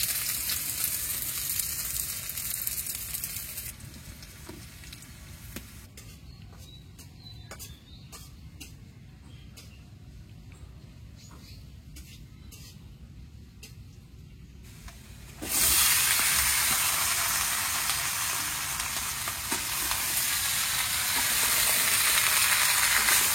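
Bay leaf and chopped garlic frying in hot oil, with a steady close sizzle and hiss that swells much louder partway through as more goes into the pan.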